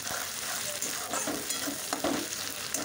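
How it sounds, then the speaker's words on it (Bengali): Chopped tomato with salt frying in a pan, a soft continuous sizzle with light stirring clicks throughout. "একটু ভেজে নিলাম"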